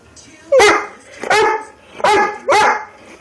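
A dog begging for food barks four times in a steady rhythm, each bark loud, close and sharp, with brief quiet gaps between them.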